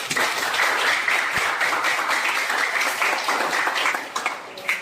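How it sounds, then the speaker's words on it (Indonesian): A classroom group claps for a student, a lively, close burst of hand clapping that stays full and continuous before tapering near the end. "tepuk tangan untuk dia"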